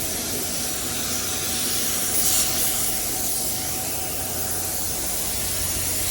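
Blueberry candy paint misted from a spray gun onto a 1984 C10 in a light dust pass, a loud, continuous, even hiss held close throughout with no breaks.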